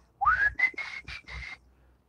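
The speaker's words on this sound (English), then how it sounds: "Trying to whistle is hard." A person whistles a short tune of five notes, the first rising up and the rest held steadily, close and clear over quiet background with no speech.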